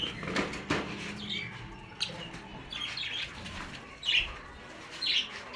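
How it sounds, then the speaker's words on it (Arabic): A small bird taken from the far end of a room in a bird sanctuary flaps its wings quickly as it flies across, followed by bright chirps and short calls. "خلينا ناخد واحد دلوقتي نطيره من اخر الاوضه"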